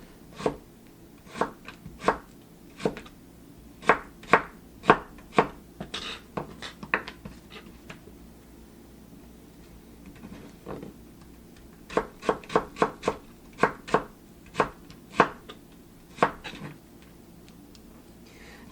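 A kitchen knife julienning vegetables into thin 0.2 strips strikes the cutting board in quick, crisp rhythmic runs of chops, close and clear, with a pause of a few seconds midway before the cutting resumes.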